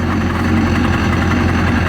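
A 2003 Yamaha RX1 Genesis Extreme snowmobile with a 1000cc four-cylinder engine idling close by, a loud, steady low rumble with even vibration throughout and no voices.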